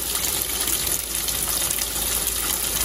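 A Maytag MVWP575GW commercial-grade top-load washer fills with water on a deep-water setting, giving a steady, loud rushing gush that runs without a break and with no voices.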